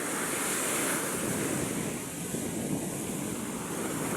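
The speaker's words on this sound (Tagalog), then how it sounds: "Kasi ayan, ang lalaki ng alon ngayon" Large ocean waves surge and crash continuously, a loud dense wash of surf mixed with strong wind buffeting the microphone, no pauses between breakers.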